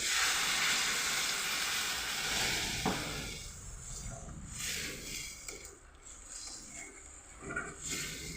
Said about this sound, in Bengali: এবার জলটা দিয়ে দিলাম।